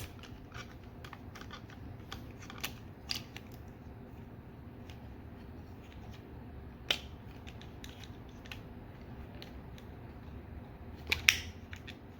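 Plastic parts of a Transformers Legacy Evolution Dirge action figure are unclipped, giving quiet, scattered clicks and creaks with a few sharper snaps standing out against a faint background hum.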